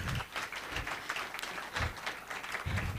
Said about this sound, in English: Please give me another round of applause.